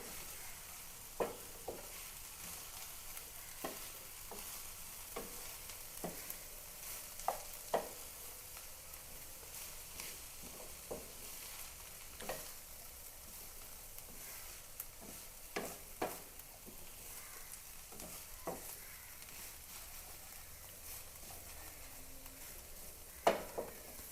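Grated fresh coconut with ground cumin and turmeric being mixed in a pan, soft scattered clinks and scrapes of a spoon over a faint low sizzle, quiet and unhurried.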